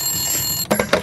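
A telephone rings: a rapid, bright, trilling burst of bell-like pulses starts partway through and is close and loud after a short stretch of steady background hiss.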